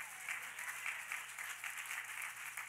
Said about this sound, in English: Somebody say, clap your hands.